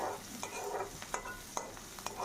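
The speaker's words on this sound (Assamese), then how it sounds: "পিঁয়াজ মৰিচ এইখিনি দি ভাজি আছোঁ।" Chicken fries in a pan with onion and chili, a soft, steady sizzle broken by occasional scrapes and clicks of stirring, quiet and close.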